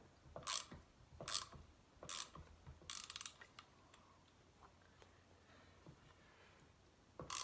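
A spanner turns a threaded rod to pull a star nut into a Brand-X RD-01 bike fork, giving faint, close metallic clicks and ratcheting snaps in irregular bursts, with quiet scraping between them.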